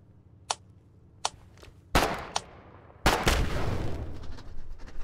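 Gunfire in the video game Foxhole: a few sharp isolated shots, then heavy blasts and a loud sustained burst of fire with rumbling aftermath, close and punchy, with no talking.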